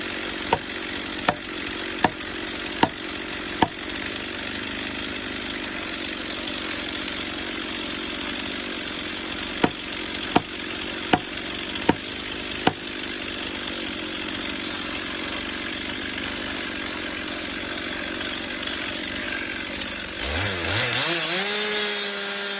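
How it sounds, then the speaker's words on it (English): A chainsaw works high in the trunk of an old oak tree, a steady buzzing drone with a few sharp clicks and knocks, rising into a louder revving surge at the end. "In his hand, he holds a roaring chainsaw."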